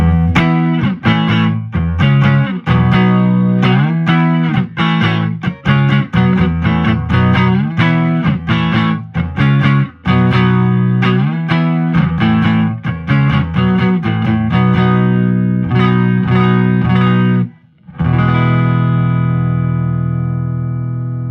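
Dry electric guitar with chorus-like effect playing a busy run of chords and notes, loud and close, ending on a sustained ringing chord.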